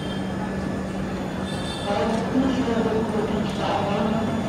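A long-distance train platform at Mumbai railway station carries a low rumble of waiting trains, with a steady hum and clatter that grows louder midway, under distant voices.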